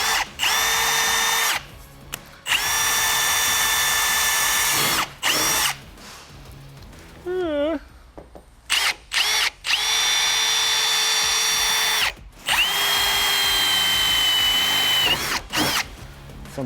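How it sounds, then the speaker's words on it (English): A power drill bores holes into a BMW E46 bumper, several loud whining bursts of a few seconds each with short pauses between, close and alone. "I'm going to put a cable tie on there. To do that, I'm literally just going to drill 2 holes."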